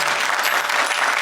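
A short burst of audience applause at a live show in San Francisco, a broad wash of clapping from a crowd, fairly loud and without talking.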